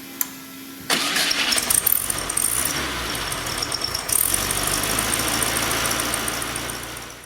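An air-cooled Volkswagen engine cranks and catches after a short quiet moment, then runs loud and clattery, revving once before settling into a steady idle.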